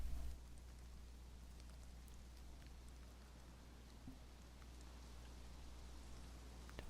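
Rain in the video game DayZ makes a faint, steady hiss of falling drops with a low rumble underneath, continuous and even throughout.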